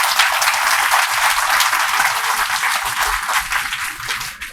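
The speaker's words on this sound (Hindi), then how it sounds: "सर, एक बार जोरदार ताली बजाइए।" Audience applause at a school event, steady dense clapping from a crowd filling the room, loud and sustained throughout without speech.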